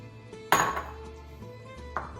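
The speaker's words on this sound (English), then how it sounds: "Give that a stir" A spoon scrapes and clinks against a bowl while a filling of diced ham, crumbled cooked Italian sausage and provolone is stirred: one sharp clatter near the start and a lighter knock near the end over quiet scraping.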